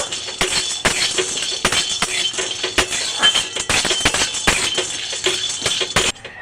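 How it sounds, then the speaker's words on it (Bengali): Dry peanuts rattling and scraping in a hot empty pan as they are stirred and lightly roasted, with repeated sharp clinks of a spoon against metal. "বাদামটাকে নেড়ে ছেড়ে হালকা করে ভেজে নেব।"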